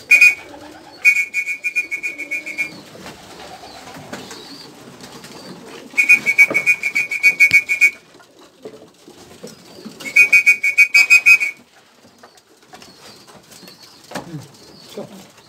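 Pigeons vocalize in loud intermittent bursts with whistling calls and some wing flapping, close by, separated by quieter stretches of background noise.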